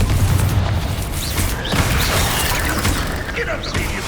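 A Confringo blast spell explodes in Hogwarts Legacy amid a dense, chaotic fight, with booming impacts and clattering crashes packed close together and loud throughout, while a voice speaks over the action.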